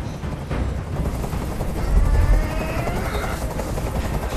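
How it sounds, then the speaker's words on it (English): A helicopter hovers in the video game Detroit Become Human, a steady thudding rotor drone that swells louder midway, with no voices. "I can't stand that noise anymore. Tell that helicopter to get out of here."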